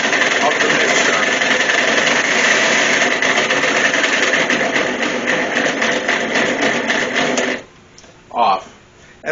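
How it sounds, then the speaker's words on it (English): A vintage Oster Kitchen Center stand mixer running loud and steady with an empty bowl, a continuous whirring motor whine that cuts off abruptly near the end and is followed by a brief clunk. "So that is the mixer function right there."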